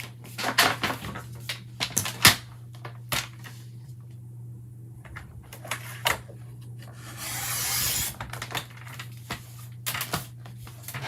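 Paper card front being trimmed at the end, a series of dry scraping and rasping cuts with sharp ticks and a longer rough slide, close and fairly quiet against a low steady hum.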